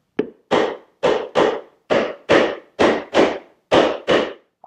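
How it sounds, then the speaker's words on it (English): Hammer striking a wooden chair slat during glue-up, about ten sharp, loud, close knocks spaced unevenly, some in quick pairs, each with a short decay. "A few hits with the hammer."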